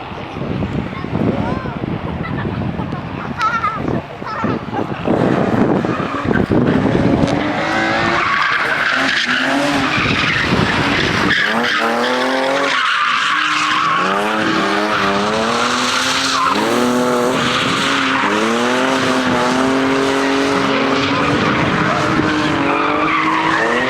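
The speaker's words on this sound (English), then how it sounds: "Just grab a couple of minutes of the drifting and then I'll wrap up" Cars drifting at Crail drag strip during a performance car show, with loud, continuous tire squeal and screeching skids over revving race engines, sustained and close throughout.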